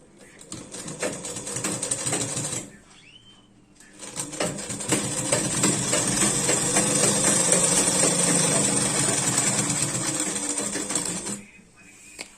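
A sewing machine stitches winter socks in two runs, a short burst then a long steady whirring rattle, close and loud, with a brief quiet gap between.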